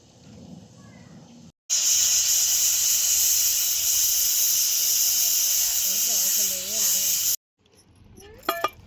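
Pressure cooker on the stove gives a loud sustained whistle with a hissing rush of escaping steam for several seconds, then cuts off, with quieter kitchen sounds and faint clinks before and after.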